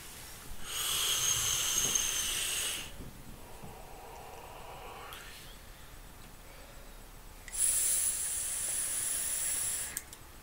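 Two vape mods, an iPV3 and a Godmod 180, fired at 50 watts, give two separate bursts of loud airy hiss and crackle, about two seconds each, with a faint puff between and no talking.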